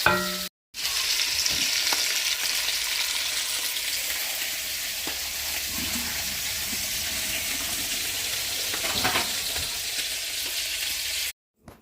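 Teal duck pieces browning in a hot pot, a steady loud sizzle and frying hiss running continuously for most of the stretch, with occasional stirring clinks, cutting off abruptly at both ends.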